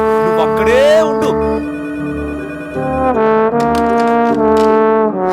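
A telephone rings with a repeating melodic tone, loud and sustained through several cycles, while a voice speaks briefly over its start.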